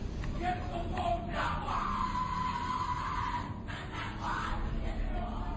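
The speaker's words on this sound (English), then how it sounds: "What you're hearing is the first recording ever made of the Skull and Bones initiation ceremony." Muffled, distant shouting and chanting voices in a group at a Skull and Bones secret society initiation ceremony, with occasional louder cries rising over a steady murky background hiss.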